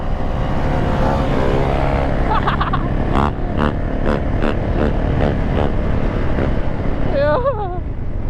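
A 450 quad ATV engine revs loudly and continuously while drifting and swerving in a stand-up stance, with wind buffeting throughout and excited voices talking and shouting over it.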